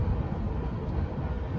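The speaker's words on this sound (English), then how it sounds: "there's a train or something going by" A steady low rumble of a passing train, continuous and fairly loud, without clear breaks or talking.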